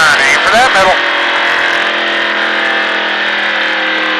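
A NASCAR stock car at a driving experience accelerates hard, its engine roaring loud and close with a rising tone through an upshift, and a voice speaks briefly over the start.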